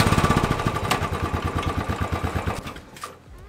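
A Royal Enfield motorcycle engine running after rear disc brake work, with a close, steady thumping beat that slows and fades out near the end, and no talk.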